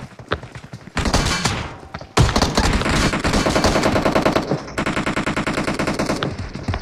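Automatic gunfire in the shooter game PUBG Mobile, loud rapid bursts of machine-gun fire with brief pauses between sustained volleys, close and dominant with no speech.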